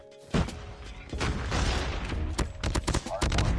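MX9 submachine gun in Call of Duty Mobile firing rapid, loud bursts of shots over about three seconds, with sharp cracks clustering toward the end above game background noise.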